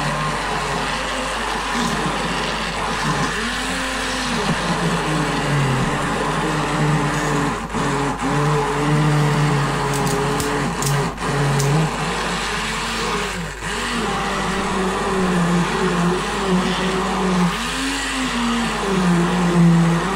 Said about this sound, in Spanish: Ahora con la batidora lo batimos bien.